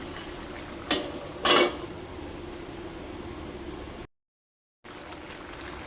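A metal lid clanks twice onto a cooking pot of ridge gourd shukto. The pot then settles into a steady low bubbling hiss, which briefly drops out near the end.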